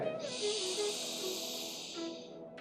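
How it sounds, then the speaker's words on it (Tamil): A slow yoga inhalation through the left nostril makes a soft, airy hiss drawn steadily for about two seconds, close and quiet. "இடதுல மெதுவாக மூச்சை உள்ளழுங்க"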